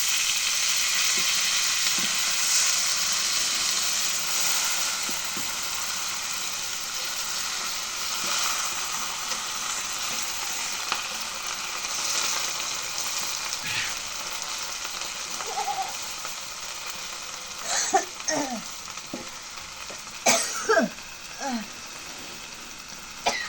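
Leafy greens hit a hot pan already frying with onion, chili and garlic, giving a steady close sizzle for the whole stretch, with a few sharper pops and scraping clinks near the end.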